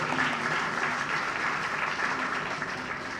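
A crowd at a Hawaiʻi political rally for Josh Green applauds congressional leaders, a dense, steady wash of many hands clapping at once that holds loud and even throughout with no voices rising above it.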